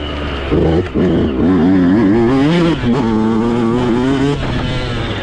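A motocross motorcycle engine, running too rich, strains and fails to rev freely, holding a loud wavering near drone with uneven pitch rises and a brief drop early on.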